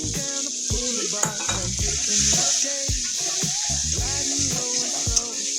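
Spice paste for a soybean and potato curry sizzles in a pan while a utensil stirs and scrapes it, with clinks of metal on cookware and a steady frying hiss throughout.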